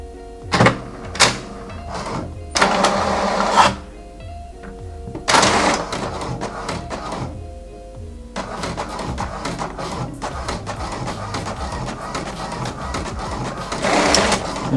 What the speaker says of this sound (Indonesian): Kemudian kita print.